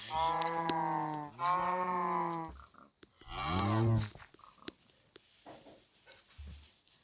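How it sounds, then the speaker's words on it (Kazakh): A cow moos loudly several times, long drawn-out lowing calls close by, with short pauses between them and faint outdoor noise. "Сиыр кеси."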